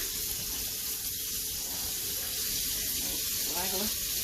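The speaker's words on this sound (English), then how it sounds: "My potatoes are done. I'm going to drain them off in this strainer." Water from a pot of boiled potatoes pours out through a strainer, making a continuous rushing splash close by with no break.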